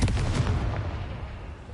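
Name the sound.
Confringo spell blast in a Harry Potter video game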